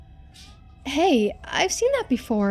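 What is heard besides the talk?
pet cat meowing while playing with a toy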